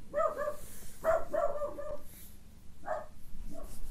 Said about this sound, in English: I just made the dog bark.